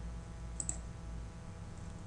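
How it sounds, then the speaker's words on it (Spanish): Two quick, faint computer mouse clicks land close together over a low steady hum of a computer setup while CAD software is being operated; nobody speaks. "voy a hacer clic aquí en este punto"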